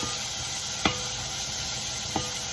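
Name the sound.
stirring tempering into pointed gourd (parval) curry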